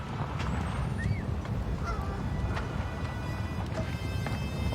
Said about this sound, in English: Well, I guess Canadian geese make sense.